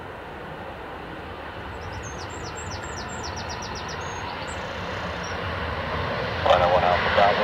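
A Ryanair airliner touches down at Dublin Airport and applies heavy reverse thrust, a constant loud engine rush that surges near the end, with faint birdsong chirps in the middle and a brief radio-like voice late on.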